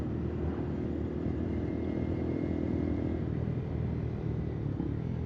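A Honda CBR 250R motorcycle engine hums steadily while riding up through hills, a low continuous drone mixed with wind rush and no speech.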